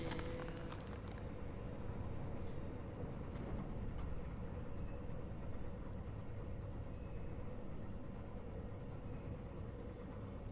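Train running in the Paradise Lost video game, a dense, steady rumble with a sustained tone throughout, fairly quiet and with no voices over it.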